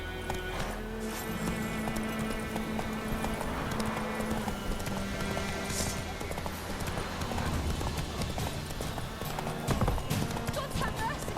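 A horse gallops in The Witcher 3. Hoofbeats clop steadily over a dense, loud game soundscape, with a whinny and other effects mixed in throughout.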